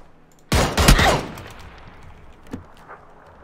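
A sudden loud burst of gunfire in a shooter video game, a tight cluster of shots lasting about half a second, followed by a fading rumble and a couple of fainter, more distant shots.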